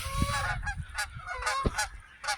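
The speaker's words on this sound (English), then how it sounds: "there's geese" Geese honk in a loose series of loud, nasal calls, several overlapping bursts over a couple of seconds, fairly close with no voices.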